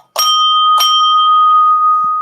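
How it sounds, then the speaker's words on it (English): A small handheld bell, a gift to the host, struck twice in quick succession, each bright clang ringing on and sustaining its clear tone for well over a second, loud and close. "James bought me this bell"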